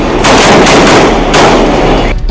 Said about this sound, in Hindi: इस दौरान गोली चली और पूरा इलाका गोलियों की तड़तड़ाहट से गूंज उठा।